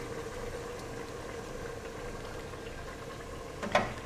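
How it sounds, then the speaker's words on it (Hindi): Beef with garlic-ginger paste fries in a pot, giving a steady, soft bubbling sizzle throughout, with one brief clink near the end. "लहसुन अदरक की एक बार भुनाई कर लेते हैं"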